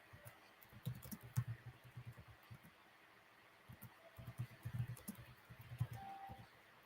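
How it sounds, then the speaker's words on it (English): Computer keyboard typing in two bursts of rapid, uneven key clicks with a pause between, moderately close over low room hum, no voices. "Just need to type in the names."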